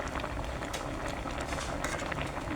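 Fish (tulingan) simmering in coconut milk in a pot, a continuous dense bubbling boil, close and steady with no break.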